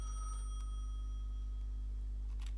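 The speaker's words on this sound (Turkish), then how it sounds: "Telefon çalıyor." A telephone rings at a gas station in the Gas Station Simulator video game, a steady electronic ring that holds for a couple of seconds over a low constant hum, with no talking.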